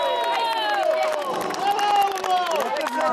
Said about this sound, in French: Foule en liesse.